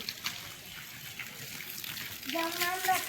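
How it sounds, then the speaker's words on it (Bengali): Water is poured onto a mango tree, making a soft splashing and trickling close by that grows stronger toward the end, with a person talking over it. "এই যে জল দেওয়া হচ্ছে গাছে"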